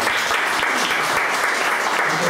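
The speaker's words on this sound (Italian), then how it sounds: "facciamo subito un applauso" An audience at a book presentation on Fabrizio De André applauds with dense, steady clapping that fills the short stretch evenly at close range.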